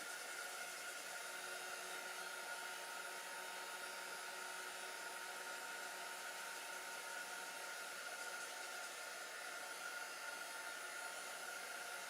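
A hair dryer runs in one steady, loud, unbroken whoosh, drying chalk paste on a fabric wine bag, with no talking over it.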